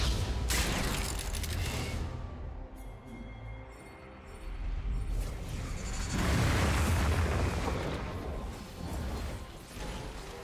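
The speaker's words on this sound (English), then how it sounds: "Blue team's turret has been destroyed." Turret destroyed in League of Legends, heard as a heavy crashing explosion with rumbling debris that fades, followed by a second booming burst and a long roar, loud and close with no talk.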